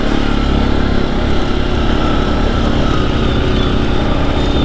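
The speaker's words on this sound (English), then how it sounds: "For the King Quad, it just goes naturally. The throttle, it just drives more naturally." A Suzuki KingQuad ATV engine runs under throttle, a steady, loud, close mechanical drone with a throbbing low pulse that holds without pause.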